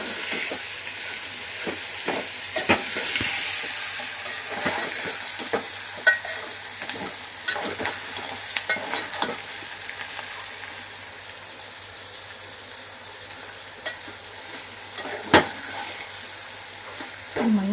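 A Telangana-style tempering for lemon pulihora frying and sizzling steadily in a pan, with scattered scrapes and taps of a spoon stirring it, close and fairly loud throughout.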